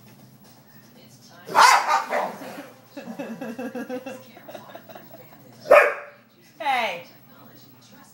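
A pit bull puppy barks and yips in a few sharp bursts at close range, with a person talking in between.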